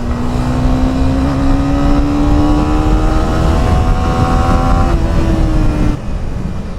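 A Honda CB300R motorcycle accelerating hard, its engine note climbing steadily through the revs in a loud, close, continuous pull before dropping off with a gear change near the end.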